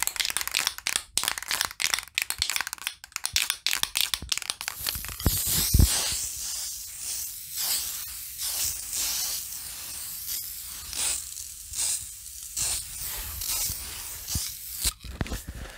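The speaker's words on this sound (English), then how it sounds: "We want to shake the can for a few seconds and then spray for a few more seconds." A spray paint can is shaken with a run of quick rattling clacks, then gives several short hissing bursts of spray with brief pauses between them. Both sounds are close and moderately quiet.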